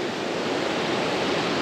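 Water in Flea Creek in the Brindabella Ranges of New South Wales flows with a steady, dense rushing hiss, close and even throughout, with no voices.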